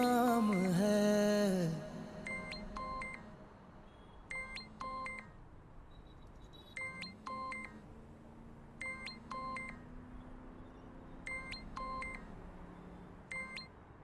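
Telephone keypad dialing tones in a drama scene, several clusters of quick electronic beeps in a regular stop-start rhythm, clear and close, following a brief burst of music at the start.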